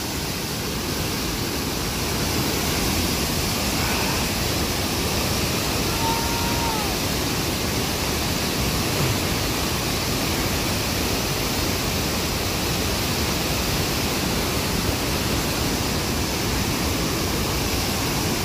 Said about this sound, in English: And the water just surging down.